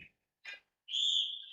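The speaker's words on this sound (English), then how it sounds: "We have a whistle underneath." A referee's whistle at a girls' high school basketball game gives one shrill, sustained blast after a couple of brief, muffled court noises.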